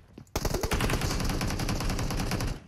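Automatic gunfire in a video game, a sudden loud, rapid burst of shots that keeps going for about two seconds before cutting off.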